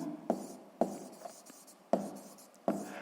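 A pen writing out a sixth-grade maths equation on paper; soft scratching strokes broken by four sharp taps, close and quiet.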